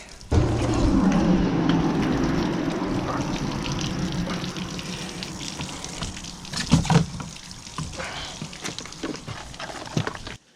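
Oil pours from the outlet of a Yamaha 115 outboard motor in a steady close gush that fades slightly, then breaks into a few irregular splashes and drips near the end.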